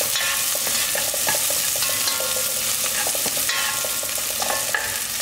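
Small onions for South Indian sambar fry in hot oil as a spoon stirs them around a pan, a steady close sizzle broken by scraping and clinking stirs throughout, with no talking.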